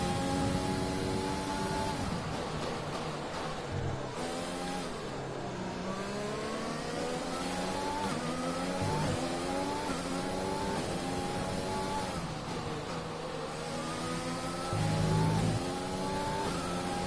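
Formula 1 race car engine from the F1 2020 racing game, a continuous high-pitched whine rising and falling through repeated upshifts and downshifts, loud and steady with no talking.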